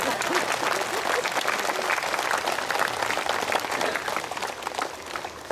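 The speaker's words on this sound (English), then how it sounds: "Give a big clap for the celebration." A crowd applauding at a Buddha Poornima celebration, sustained dense clapping from many hands filling the whole stretch and tapering slightly toward the end.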